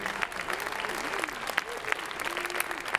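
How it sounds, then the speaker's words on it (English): Audience applause at a high school percussion ensemble concert, steady clapping with some cheering, while a voice talks over it. "Let's have another round of applause for Daniel and Kira up here"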